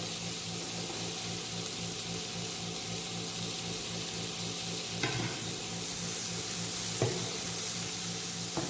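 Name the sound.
frying tomato, curry leaves and carrot for poori masala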